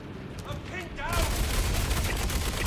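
Gunfire in the video game Star Citizen: after a second of murmuring background with a voice, a dense, loud barrage of rapid shots bursts in and continues to the end.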